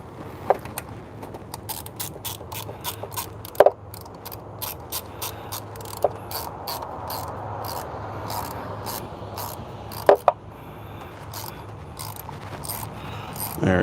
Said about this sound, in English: Let's do it with the hand.